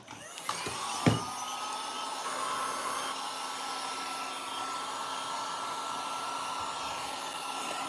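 Heat tool blowing hot air over epoxy resin art: a steady, whirring blower drone starts after a few clicks and handling knocks and then continues evenly to the end, with no talk.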